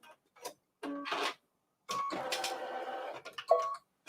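A single-needle embroidery machine stitches a Kimberbell mini-quilt design in short bursts of rapid mechanical clatter with pauses between them, close and moderately quiet, with no talking.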